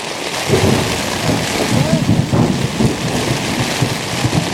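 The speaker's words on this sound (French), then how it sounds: "Là, dehors, c'est le déluge." Heavy downpour drums steadily outside during a thunderstorm in Peru, with deep rumbling thunder rolling underneath the constant roar of rain.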